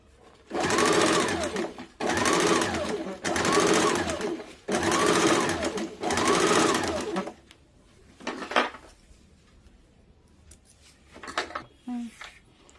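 A sewing machine stitches a blouse in five even, loud bursts of about a second each, close by, followed by sparser handling sounds and brief clicks.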